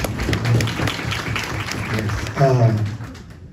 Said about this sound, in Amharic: እንደገና በደንብ አጨብጭቡለት